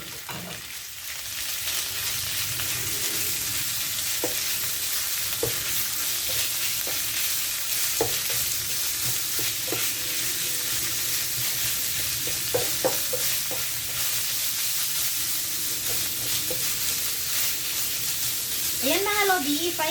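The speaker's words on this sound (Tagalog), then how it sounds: "i-fry lang natin until magiging a little bit okay mga lods" Minced pork for picadillo sizzles steadily in a hot pan, with scraping stir strokes and small clicks of the utensil against the pan throughout; a brief voice is heard near the end.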